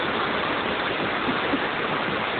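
A small stream on the Alna river flows under a bridge, giving a steady, close rushing wash of water that stays even and unbroken throughout, with no voices.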